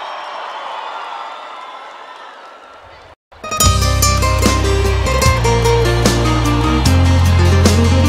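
Crowd applause and cheering in a concert audience at a live show, a broad wash of clapping that drops off briefly before loud band music with sustained bass notes takes over.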